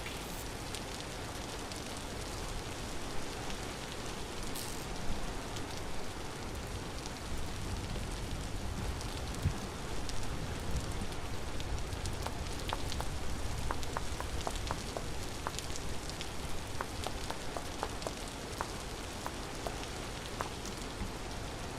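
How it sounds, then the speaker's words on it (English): Steady rain pours down in the survival game Vintage Story, a continuous hiss of falling water with scattered sharper drop ticks and no voices. "this place must be Seattle because it is just constantly raining"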